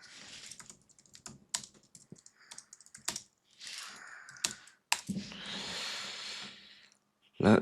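Typing on a computer keyboard while working in HiCAD 3D CAD software: close, irregular bursts of key clicks separated by short pauses, with some audible breathing and a louder thump at the end.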